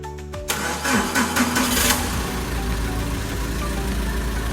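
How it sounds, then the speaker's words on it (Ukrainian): A forklift engine cranks briefly and catches, then settles into a steady, loud mid-pitched idle that runs on without any talk. "Завели навантажувач, подивилися стабільну роботу двигуна"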